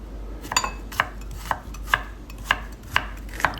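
Knife chopping carrots into small cubes on a cutting board, about eight crisp evenly spaced knocks, close and clear with no talk.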